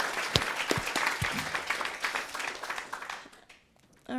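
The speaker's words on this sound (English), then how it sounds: "I'm going to clap again" Audience clapping at a conference session, a few sharp nearby claps over sustained applause from the room that thins out and dies away near the end.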